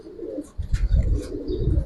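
A silver male pigeon gives a short, soft, close coo, a low burbling pulse repeated in quick succession, heard alone.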